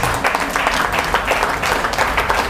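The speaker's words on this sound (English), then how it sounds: "Clap for Jesus." A church congregation applauds in a dense, continuous burst of many hands clapping at once, loud and close, with no one speaking over it.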